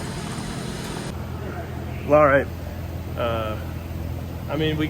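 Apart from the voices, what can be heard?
1960 Corvette engine running after first crank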